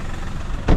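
A SEAT Ibiza 6J car engine idles with a steady low rumble up close, then swells briefly louder near the end.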